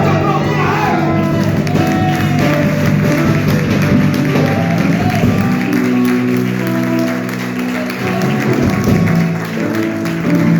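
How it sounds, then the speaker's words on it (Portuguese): A church congregation applauds during a sermon, steady clapping mixed with crowd voices and a musical drone underneath, loud and continuous throughout before easing slightly near the end. "Tu pode aplaudir a Ele."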